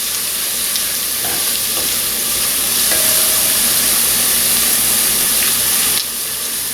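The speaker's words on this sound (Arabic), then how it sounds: "رح أحركهم بس لمدة دقيقة لحد ما تبدأ ريحة التومة تطلع" Garlic fries in a pan over medium heat under steady stirring. A constant loud sizzle hisses throughout, with soft scrapes of the spoon here and there.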